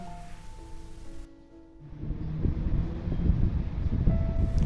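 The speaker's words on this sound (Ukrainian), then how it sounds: "У нас дуже вітряно" Wind buffets the microphone outdoors, starting quieter and building into a steady, rumbling gusty roar.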